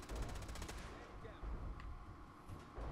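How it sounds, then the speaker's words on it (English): Laser Gatling gun fired in Fallout 4 during a large battle against synths: a fast, continuous stream of rattling shots, dense and fairly loud, with other combat noise running underneath. "Is that Maxson's laser Gatling gun?"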